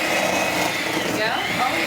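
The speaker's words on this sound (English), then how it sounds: "I'm kind of scared to turn the mixer on." Electric mixer whirring steadily through pumpkin cheesecake batter, a close, continuous motor buzz with slight wavering in pitch throughout.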